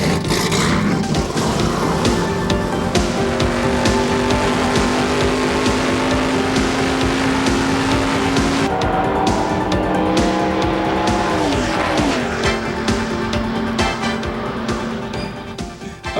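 A Winston Cup stock car drives at race speed in 1991, its engine a loud, continuous roar that rises and shifts pitch, with tire squeal and skidding near the end and no talk.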